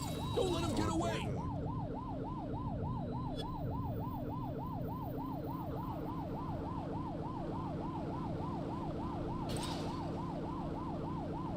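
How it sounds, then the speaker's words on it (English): A police car siren in a video game wails in a fast, steady up-and-down cycle for the whole stretch. It stays loud and even over a low engine drone, and a brief click cuts in near the start. "Remember to turn your siren on."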